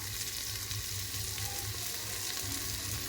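Red chili powder and onion-garlic masala sautéing in a pan, giving a steady, close sizzle with a soft, continuous frying hiss throughout and no talk.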